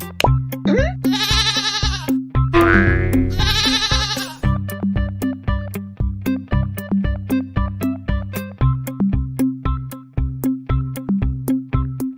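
Goat bleats ring out twice over a steady, rhythmic plopping beat with musical tones, the animal calls loud and close before the repetitive pattern continues alone.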